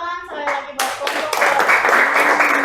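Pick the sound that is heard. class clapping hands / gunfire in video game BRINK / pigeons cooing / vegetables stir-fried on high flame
class clapping hands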